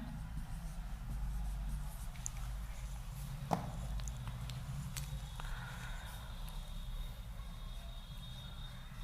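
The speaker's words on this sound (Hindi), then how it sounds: "देखो ऑप्शन जो दिया हम यहाँ लिख दे रहे हैं" Writing strokes on a board during a physics lecture on Newton's laws of motion, a soft scratching over a steady low room hum with one sharper tap midway.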